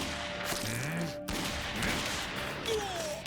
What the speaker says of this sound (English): he fired 3 bullets from his pistol into Hasanullah's chest